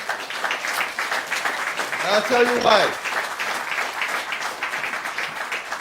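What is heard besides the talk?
audience applause for teachers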